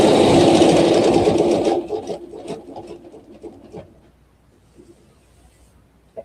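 Sewing machine stitching a quilt with a ruler, running in a loud steady burst for nearly two seconds, then stopping into quieter handling noises and faint intermittent stitching clicks.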